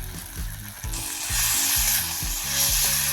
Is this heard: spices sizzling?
yes